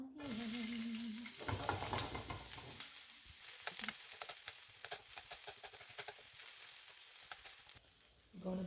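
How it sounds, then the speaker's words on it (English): Vegetables and onions sautéing in a pan, a continuous close sizzle with clattering stirs and scrapes, busier at the start and settling into a steadier fry. "Now we're gonna saute the veggies. There you go. And add the onions."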